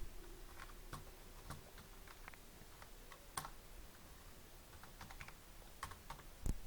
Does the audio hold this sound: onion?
no